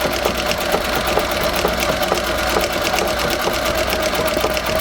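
A Singer 201-3 sewing machine mounted in a treadle stitches steadily, its close, continuous mechanical whir carrying a regular rapid tick through the whole stretch.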